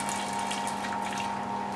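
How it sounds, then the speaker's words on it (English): Boiling-hot wort from a kettle runs through a counterflow chiller and pours into a fermenter, a steady close gush with a pump-like hum and no talk. "It's just started pouring into the fermenter there."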